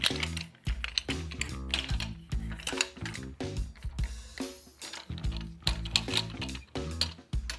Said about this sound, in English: First thing you're going to do is loosen up all your knobs